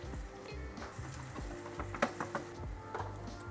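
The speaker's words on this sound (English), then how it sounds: "A little bit of salt. I'll be seasoning them again, so just enough to get the onions sweating." Onions sizzling in hot olive oil with a pinch of salt, a steady crackling fry with occasional sharp spits and stirring clatter, close and moderately quiet with no talking.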